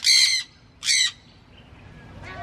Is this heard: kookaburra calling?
yes